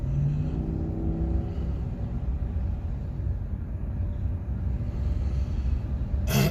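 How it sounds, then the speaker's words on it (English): A truck engine rumbles steadily from inside the cab, a loud, continuous low drone with no talking. "My truck makes noise."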